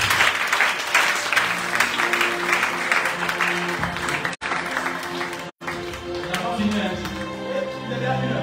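A church congregation at a New Year's Eve vigil applauding and acclaiming Jesus Christ, loud sustained clapping from a crowd that breaks off briefly twice, with a voice calling out over it.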